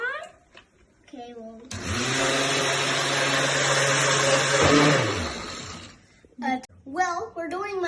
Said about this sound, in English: we're doing my mom's bullet blender